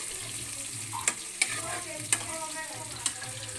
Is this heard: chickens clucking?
no